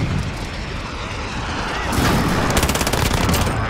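Rapid automatic fire from a Finn light machine gun in Modern Warfare, a dense sustained rattle of shots over a steady game backdrop, loudening and sharpening in the second half with crackling bursts up close.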